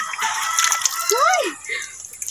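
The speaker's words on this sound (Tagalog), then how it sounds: "Maligo na ta sa tubig." Water splashing and sloshing as people bathe in a cold natural spring in the countryside, with a voice calling out briefly among the continuous watery splashes.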